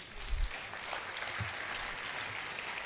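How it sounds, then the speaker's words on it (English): An audience at a university lecture claps to welcome a guest speaker, a steady, fairly loud round of applause filling the room with a couple of heavier thumps early on. "Please, a round of applause to him."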